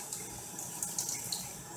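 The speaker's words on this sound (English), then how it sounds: "I'm water sanding between the coats of True Oil." Wet sanding a Les Paul guitar finish between coats of True Oil with 2000 grit sandpaper and water: a soft, steady wet scrubbing hiss with a few light stroke peaks, close and quiet.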